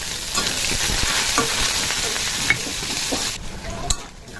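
Onions and green chilies hit hot oil that already holds browned whole garlic, producing a loud, steady sizzle with stirring scrapes and a couple of clattering knocks near the end.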